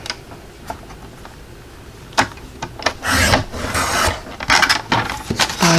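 Small pieces of paper are cut for a handmade Christmas wreath door card, with sparse light ticks early on and then close, rasping cutting strokes in short bursts near the end.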